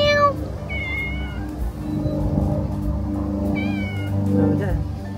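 A cat meows in a few short calls outdoors near a flowering plum tree, with people talking over it and a low traffic rumble underneath.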